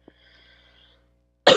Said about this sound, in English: I gotta like cough real quick,